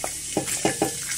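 Garlic and onions sizzle in a pan for crispy dinuguan, with a steady high hiss broken by three or four soft stirring scrapes, close and moderately loud, without any talk.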